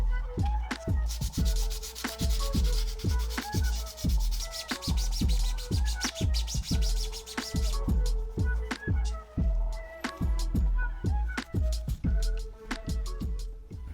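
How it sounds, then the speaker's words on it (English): A blank toy figure is hand-sanded smooth with 220 grit sandpaper and fine sanding sponges, steady rhythmic scratchy rubbing strokes repeating close to the microphone, about two per second, with no voices. "I'm using a 220 grit sandpaper and some fine sanding sponges."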